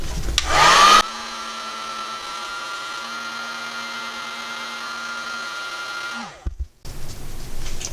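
A heat torch runs on low over a resin coaster, giving a steady airy blowing hum that starts after a brief louder burst, holds for about five seconds and then cuts off, followed by some faint handling noise.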